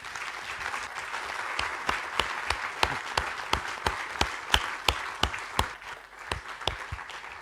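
Sparse, steady hand claps from a conference audience ring out one by one in a roomy hall, a thin round of applause with each clap distinct.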